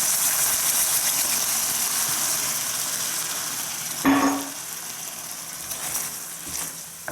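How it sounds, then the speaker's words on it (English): Meatballs sizzling loudly in a hot pan as tomato sauce goes in, a steady hissing crackle with a brief louder surge midway that then settles back. "Did you hear how much sizzling that was?"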